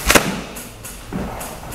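A door slams once with a loud, close thud at the start, followed by quieter knocks and room noise.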